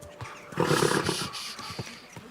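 A horse in the medieval video game Kingdom Come: Deliverance 2 gives a short, close whinny that rises and then trails off, with faint hoof and ambient sounds around it.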